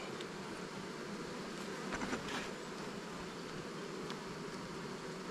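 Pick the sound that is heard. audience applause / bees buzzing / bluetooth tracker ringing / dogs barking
bees buzzing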